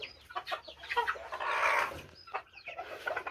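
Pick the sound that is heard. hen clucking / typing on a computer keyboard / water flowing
hen clucking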